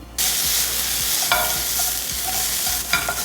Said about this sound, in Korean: 자, 다음으로는 야채를 볶아 보겠습니다.